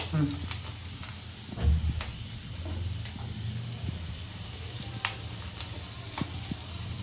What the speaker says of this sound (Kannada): ಇದು ಎಣ್ಣೆ ಹಾಕಿ ಒಂದು ಬಿಸಿ ಆದ್ಮೇಲೆ ಈರುಳ್ಳಿ, ಬೆಳ್ಳುಳ್ಳಿ, ಶುಂಠಿ, ಹಸಿಮೆಣಸಿನಕಾಯಿ